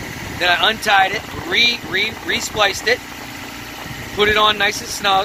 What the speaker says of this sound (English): So that sound you hear is my engine running.